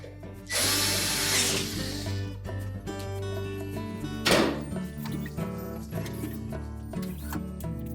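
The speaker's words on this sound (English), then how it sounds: "we'll just continue to put the rest of the screws in along the side" A power drill drives screws into the side panel of a Whirlpool range, with a long loud whir near the start, a sharp burst midway and shorter bursts later, all over a steady background hum.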